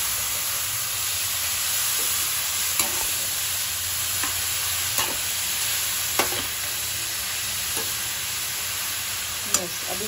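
Grated carrots fry and sizzle in a pan for gajar halwa, a continuous hiss with a spoon scraping and stirring through them every couple of seconds, close and steady.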